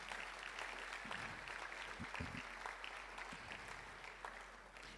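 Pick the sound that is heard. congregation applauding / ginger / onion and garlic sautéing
congregation applauding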